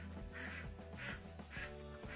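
Laying ducks quacking on a duck farm, a close, loud run of about four raspy quacks in quick rhythm over a constant background of more quacking.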